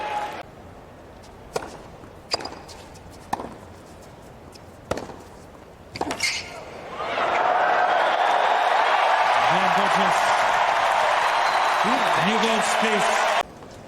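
Crowd applause at a 2024 US Open fourth-round tennis match between Nuno Borges and Daniil Medvedev swells into a steady, loud wash of clapping that holds for several seconds, after a few sharp ball strikes and under commentators talking.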